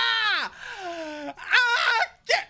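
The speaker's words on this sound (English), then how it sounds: "I don't know why I'm screaming" A gamer screams loudly during online play of X-Men or Modern Warfare 2: a long falling wail, a lower drawn-out groan, then a wavering shriek and a final short yelp, close to the microphone.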